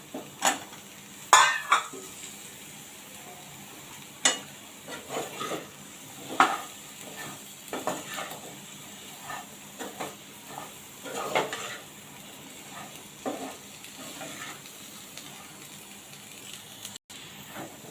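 Chopped potato pieces being sautéed in a pan for a drumstick-and-potato curry, with repeated stirring scrapes and clinks of a utensil against the pan over a low, steady sizzle, moderately close and without talk.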